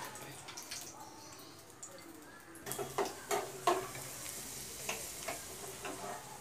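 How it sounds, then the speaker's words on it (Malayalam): Cashews and raisins fry in hot ghee with a soft, steady sizzle, broken up by a series of clinking stirring taps from a spoon in the pan. "നെയ്യിൽ നമ്മൾ അണ്ടിപ്പരിപ്പും മുന്തിരിയും വറുത്തു"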